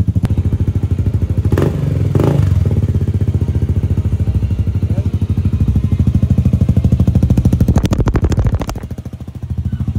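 A Kymco Xciting VS 400 scooter with an Akrapovic carbon exhaust pipe runs with a steady rapid exhaust pulse, revving up briefly a couple of times with sharp crackles, loud and close.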